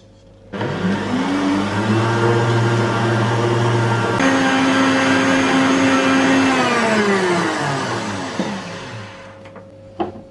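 A food mixer motor whirs steadily through a five-minute cake-batter mix, starting abruptly, shifting pitch partway as the speed changes, then winding down near the end, loud and close with no talking.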